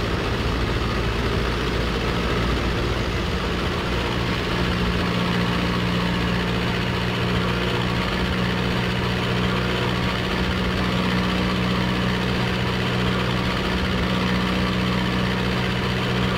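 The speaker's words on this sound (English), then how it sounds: "For the run-up then, we'll come back on the stick up to 1600 RPM." A Tiger Moth biplane's engine holds a steady run-up drone in Microsoft Flight Simulator, a constant low hum with a faint tonal whine that stays even in pitch and loudness throughout, with no voices.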